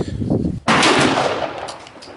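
A single sharp, loud gunshot from a Glock 9mm pistol at close range, a sudden crack followed by a decaying boom and echo.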